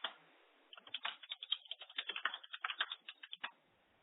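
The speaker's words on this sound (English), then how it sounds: "could someone typing be slow on that?" Rapid clattering keystrokes on a computer keyboard, a burst of irregular typing lasting about three seconds, fairly close and alone with no voices.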